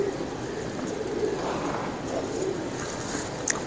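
A large, soft-feathered pigeon coos softly at close range, low murmuring calls over a steady background hum with a faint chirp near the end.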